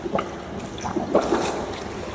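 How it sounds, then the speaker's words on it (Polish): Bubbles from a swimmer exhaling underwater through the nose or mouth, heard as short, soft gurgling bursts over about two seconds with no talk. "dopracuj swój wydech pod wodą, byś słyszał dźwięk bąbelków"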